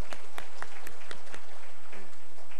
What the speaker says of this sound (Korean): 여러분 일단 축하의 박수를 한번 서로 이렇게.